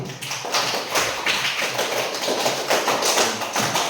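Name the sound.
applause for group one in classroom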